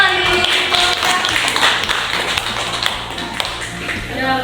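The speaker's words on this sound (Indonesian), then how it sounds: "Oke, tepuk tangan dulu." Children in an elementary school classroom applaud together, a dense burst of hand claps that rises and thins out over a few seconds, fairly close and lively, with voices murmuring underneath.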